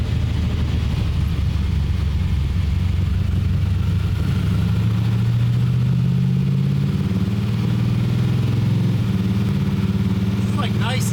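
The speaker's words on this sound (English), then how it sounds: "Alright, check out this downshifting, guys. Engine braking downshifts." A Small Block Chevy drag car with an 8HP70 transmission, heard from inside the cabin, engine braking through downshifts. Its low engine drone shifts and rises in pitch in steps, with voices faintly underneath.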